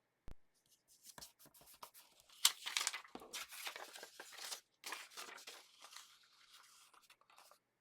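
Close, quiet vellum paper being handled and folded over a card gives soft scratchy rustles and crinkles in irregular bursts, with a sharp tap near the start and no talking.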